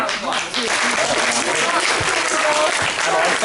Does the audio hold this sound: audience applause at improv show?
yes